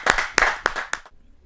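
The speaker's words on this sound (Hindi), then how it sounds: "जरा जोरदार तालियों के साथ हम उनका स्वागत" A handful of sharp, separate hand claps ring out from the audience at a Hindi kavi sammelan as a female poet is welcomed. The claps are spaced and uneven, then quickly die into near silence.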